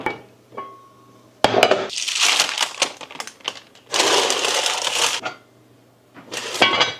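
Baking storage containers being pulled out of an organizer in a family kitchen, giving bursts of hard plastic clatter and rattling clinks separated by short quiet gaps, close and fairly loud, with no talking.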